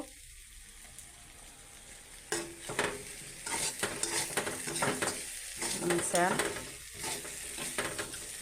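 Soybean curry sizzling and frying in a pan while a spoon stirs it in repeated scraping strokes, close and steady, with the sizzle swelling after each stir.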